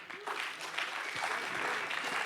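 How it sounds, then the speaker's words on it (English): Audience applause at an AI agent demo day event, a short burst of moderately faint clapping from a crowd, steady and continuous, with a hint of voices mixed underneath. "If you can give him a huge clap"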